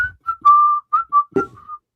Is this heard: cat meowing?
no